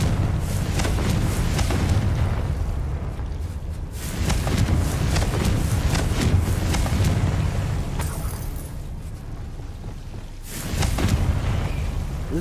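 Repeated booming blasts of the Confringo fire spell in Hogwarts Legacy, loud, rumbling bursts rolling one into the next with brief lulls between, alone without voices.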